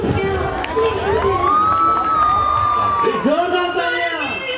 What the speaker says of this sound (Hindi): जोरदार तालियां इस कलाकार के लिए।